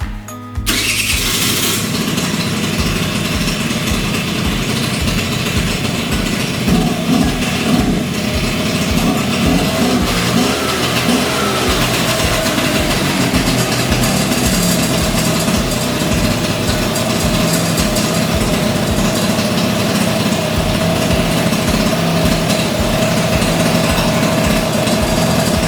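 An old-school moped engine runs steadily with its choke bypassed, a loud continuous buzzing idle after a brief start, with no talking.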